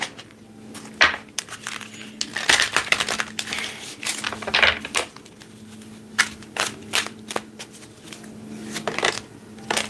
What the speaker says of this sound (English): Do I need to shuffle more?